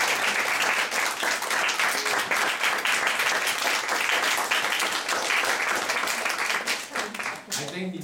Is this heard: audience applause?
yes